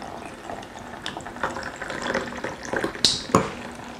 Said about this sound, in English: So all we do is lift off and pour it in.